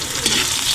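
Onion and garlic sizzling together in a hot pan, a dense continuous frying hiss with light stirring, close and steady.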